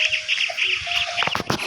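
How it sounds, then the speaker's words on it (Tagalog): A bird in the video game Pet Simulator gives a quick run of short, bright, repeated chirping tones, close and clear, bunched together over a couple of seconds. "Ay, ibon."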